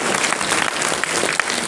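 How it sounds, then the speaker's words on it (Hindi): An audience applauds loudly and continuously at a public speech event for Buddha Purnima, with dense, close clapping throughout. "अरे भाई तालियों में कंजूसी ना करो, और जोर से ताली बजाओ"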